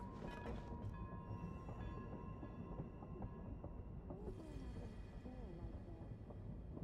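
Train rumbling in the game Genshin Impact, a continuous heavy low roll with rattling and faint squeals, steady and close throughout.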